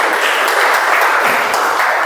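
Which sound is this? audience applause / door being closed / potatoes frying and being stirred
audience applause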